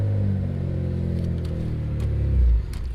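A Mitsubishi 3000GT VR4 engine idling up close, a steady low rumble with a brief rise in revs near the end before settling back.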